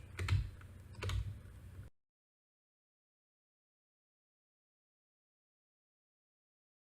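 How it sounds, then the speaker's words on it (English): Two quick arrow-key presses on a computer keyboard sound close and crisp, followed by silence. "And now I can use my arrow keys to move this image."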